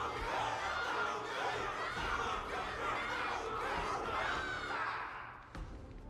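Dense crowd noise fills the scene in Honkai: Star Rail's Wardance event, a steady wash of cheering, chatter and some laughter, loud throughout and dipping briefly near the close.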